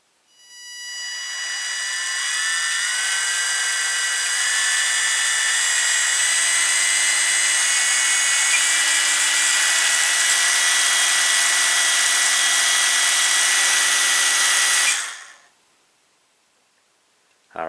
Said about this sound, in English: let's have a listen to those motors